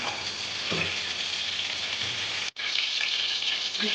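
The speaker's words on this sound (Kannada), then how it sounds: "ಬಾಣಲಿ ಇಕ್ಕಿದ್ದೀನಿ ಎಣ್ಣೆ ಎಣ್ಣೆ ಮಾಡ್ಕೊಳ್ತಾ ಇದ್ದೀನಿ" Steady, bright sizzling of hot oil in a pan, continuous and close, with a brief cut near the end before the sizzle resumes.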